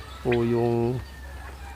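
A lone rooster, the only one in a flock kept alongside turkeys, gives a single short crow close by, followed by a brief spoken voice.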